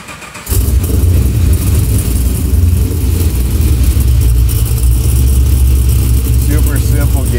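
A supercharged 1969 Camaro engine catches after a brief quiet moment, then settles into a loud, steady, deep rumble with slight revving for several seconds, close by and continuous.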